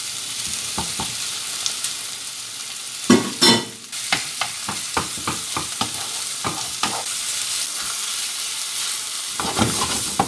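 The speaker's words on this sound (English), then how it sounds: "Now as these have started cooking, we're going to put the chops in." Pork chops laid onto onions frying in a pan crackle with a continuous close sizzle, punctuated by a burst of louder spitting and scattered sharp pops and taps.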